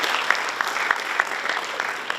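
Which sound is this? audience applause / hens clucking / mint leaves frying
audience applause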